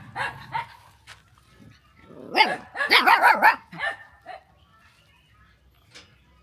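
A dog barks in a quick burst of several close, loud barks, preceded by a few softer yips and followed by a single faint yip after a pause.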